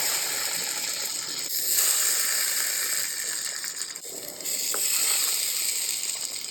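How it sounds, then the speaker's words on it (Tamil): Bottle gourd slices fry in hot oil in a pan, giving a steady, loud, close sizzling hiss that holds throughout with slight dips, and no one speaks. "எண்ணெய் காஞ்ச உடனே ஒன்றா சொரைக்காய் அப்படி அடுக்கி வச்சு ஃப்ரை பண்ணி எடுத்துக்கிறங்க."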